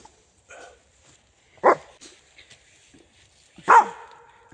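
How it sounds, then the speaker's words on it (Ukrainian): Dog barking outdoors in a forest during a mushroom-picking walk: two sharp, loud close barks spaced about two seconds apart, preceded by softer yips and whimpers, with quiet gaps between and no talk. "На палочку, дитинка гавкає."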